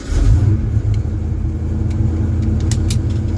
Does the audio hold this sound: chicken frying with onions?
no